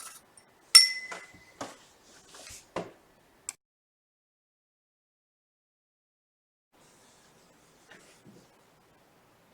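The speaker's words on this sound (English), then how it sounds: "you have to stir it very, very well" A glass beaker holding copper oxide and sulfuric acid is stirred, giving a few sharp clinks and taps in the first few seconds, then near silence with a couple of faint knocks later.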